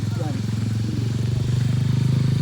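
A motorcycle engine runs at a steady, low, pulsing rev during a first riding lesson, loud and close throughout the short stretch, with a voice talking faintly underneath.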